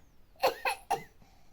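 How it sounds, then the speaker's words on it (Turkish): A small child gives three quick, light coughs in a row, close by, then falls quiet. "Heyecanlı öksürüş bu arkadaşlar."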